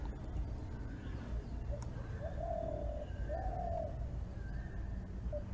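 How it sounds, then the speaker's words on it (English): Birds coo in soft repeated phrases of a few notes each, moderately distant, over a steady low outdoor rumble with no talking, in the holy Dham. "We can just listen to the birds."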